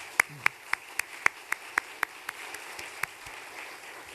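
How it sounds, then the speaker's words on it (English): Slow, sparse clapping from a small audience at a university event, about a dozen distinct claps spaced at a steady rhythm and fading slightly toward the end. "Another round of applause."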